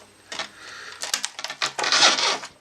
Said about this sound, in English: And I should be able to pry this out.